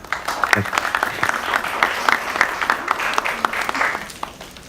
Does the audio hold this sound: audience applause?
yes